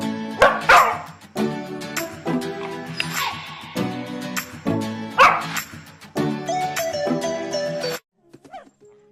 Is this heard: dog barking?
yes